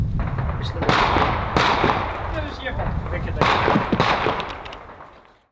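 Several sharp, muffled gunshots through a multi-port muzzle device at irregular intervals, each a broad burst of noise, heard over continuous background chatter and movement.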